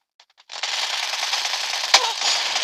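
Gunfire in the PUBG New State mobile battle royale game: a few faint taps, then a sustained burst of rapid automatic shots, loud and dense, with one sharper crack near the end.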